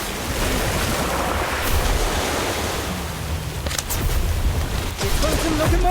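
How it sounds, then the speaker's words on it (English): Orb of Water spell effect in a Harry Potter video game: a dense, roaring watery rush like crashing surf that sustains loudly throughout, with a few sharper splashes near the end. "Orb of Water!"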